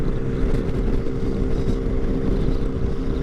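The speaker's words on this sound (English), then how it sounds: "I've been known to wake up a few people with the exhaust on this thing." A motorcycle fitted with Two Brothers titanium exhaust cans and race tips rumbles steadily and loudly, with a deep continuous engine drone and some wind noise.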